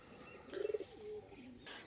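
A pair of Madras pigeons gives one soft, quick burst of cooing pulses, fairly quiet, followed by a brief low murmur in a calm setting.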